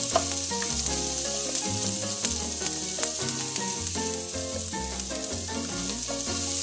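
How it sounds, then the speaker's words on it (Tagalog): Onion, garlic and ginger sizzle steadily in hot oil in a pan for chicken tinola, a bright continuous frying crackle with occasional stirring scrapes, mixed with background music and no talking. "Medyo na brown ng ating onion, garlic at ginger."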